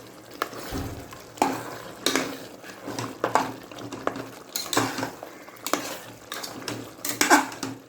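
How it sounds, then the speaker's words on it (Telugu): Spoon scraping and clanking in a pot while mutton chana dal curry with freshly ground garam masala is stirred, steady irregular metallic scrapes and knocks up close with a faint sizzle beneath, no talking. "వేసిన తర్వాత దీన్ని కొంచెం బాగా కలుపుకుందాం."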